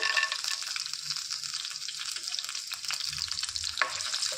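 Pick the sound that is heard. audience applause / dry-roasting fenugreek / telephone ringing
dry-roasting fenugreek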